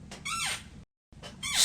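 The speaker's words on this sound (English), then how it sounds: "Stop creaking the bed!" A bed creaks and squeals in two close, loud bursts separated by a brief silence, with high rising and falling squeaks, and nobody speaks over them.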